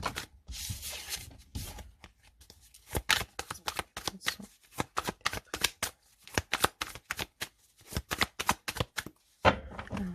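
Deck of tarot cards being shuffled and cut by hand, a quick run of crisp riffling snaps and soft slaps close to the listener, with short pauses between bursts.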